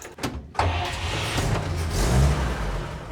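An old Chevy truck engine cranks briefly and then fires, settling into a loud, steady running rumble close by.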